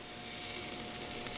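A thin steak sizzles on a grill, giving off a steady, close hiss with no other sounds.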